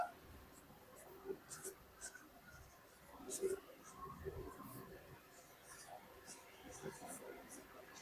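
A pen scratches across paper in a quiet room, with faint, irregular strokes and light taps spread through the stretch.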